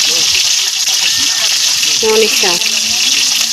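Fish for escabeche fries in a pan with a steady, loud hiss and sizzle throughout, while a person speaks briefly over it.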